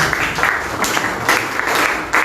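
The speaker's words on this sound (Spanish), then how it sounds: "Fuerte palmas, por favor." Steady applause from the audience at a political party meeting, a dense crowd clapping continuously at close range with a few louder swells.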